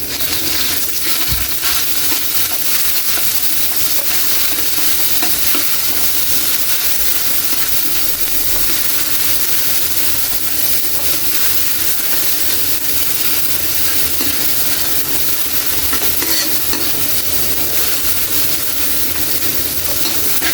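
Tomato paste is stirred into onions that have sautéed for five minutes in a hot pan while cooking sinarsahang atay, a loud continuous frying hiss with a spoon scraping and stirring throughout, no speech.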